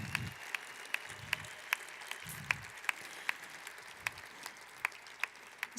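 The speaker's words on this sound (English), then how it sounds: "that in and of itself deserves a round of applause" Audience applause at a mayor's arts awards ceremony, a thin, fairly distant patter of clapping hands carrying on steadily for several seconds, with sharper individual claps standing out and no voices over it.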